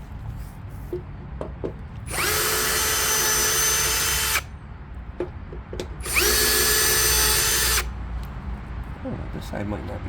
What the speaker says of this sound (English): oh, I need my drill.